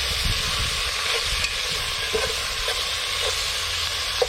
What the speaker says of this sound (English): That's all sizzling down lovely now.